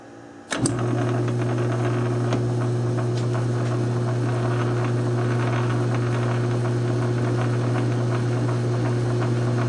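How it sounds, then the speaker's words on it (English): A South Bend 9-inch lathe starts up and runs steadily through a slow thread-cutting pass, giving a constant motor and gear hum with faint ticks and a few light scrapes on top, close and with no talk. "Let me get you set up on top and we'll show some threads being cut."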